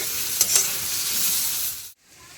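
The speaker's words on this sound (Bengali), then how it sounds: "চাল কুমড়োটা এখনও ভাজা হয়নি আর একটু সময় লাগবে" Ash gourd fries in a pan with a steady, close hiss of sizzling oil and a couple of light stirring scrapes, cutting off abruptly near the end.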